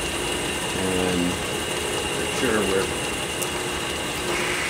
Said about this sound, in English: So we'll turn on the lathe